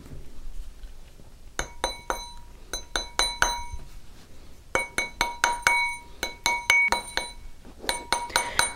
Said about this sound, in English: I'm going to use my plastic mallet, and I'm going to strike this ring all around the mandrel